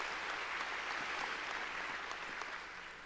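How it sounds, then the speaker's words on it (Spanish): Church congregation clapping hard during a worship service, a steady dense patter of many hands, fairly distant and faint, fading slightly at the end. "A ver, démosle palmas fuertes al Señor."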